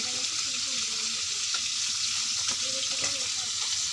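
Spices go into a pan with fried onion, garlic and a little water, making a continuous moderate sizzle with scattered clinks of a spoon stirring.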